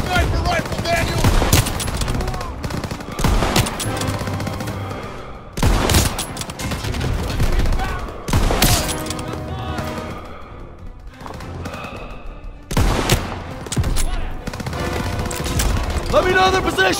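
Heavy gunfire in a World War II video game battle, loud bursts and sustained volleys with thumping impacts, mixed with shouted commands from in-game voices.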